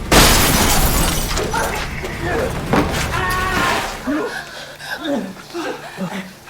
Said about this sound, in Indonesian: Lee yang telah sampai di sana segera memecahkan kaca pintu salon untuk menyelamatkan Sunjung